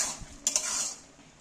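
A spoon stirs tadka masala in a kadai for egg tadka with moong dal, giving a short scraping stir with a faint sizzle and a quick metallic clink, alone and close.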